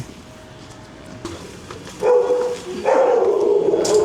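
A golden retriever barks loudly and close by in a couple of bursts, after a quieter stretch with faint background sounds, near Dazaifu Tenmangu Shrine in Fukuoka, Japan.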